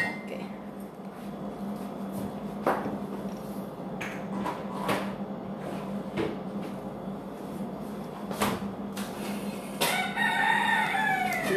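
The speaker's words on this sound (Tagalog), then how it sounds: "Wala, ang ingay ng manok." Rooster crowing with clucking chickens near a home at breakfast, several short sharp calls and a crow near the end over low room hum and light household clatter.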